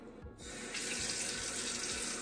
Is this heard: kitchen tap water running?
yes